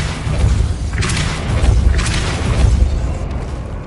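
The Depulso force-push spell is cast in the Hogwarts Legacy video game, a deep booming thump followed by a second whooshing burst, loud and close with no voices.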